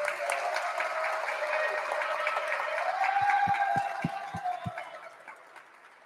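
Audience applause at a storytelling event, a moderate sustained patter of clapping that fades toward the end, with a faint tonal hum underneath.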